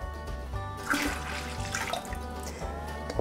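Thawed canned limeade concentrate being poured from two cans into a margarita mix, a steady liquid glug and splash with a brief pause between pours, close and fairly loud.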